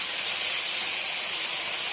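Okra frying in a pan in a home kitchen, a steady loud sizzling hiss that stays continuous and close throughout, with no talk.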